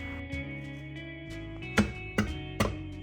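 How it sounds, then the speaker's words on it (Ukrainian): A knife chops onion on a board while a vegan burger is being made, giving three sharp, close, evenly spaced chops over a soft background hum. "також шинкую цибулю"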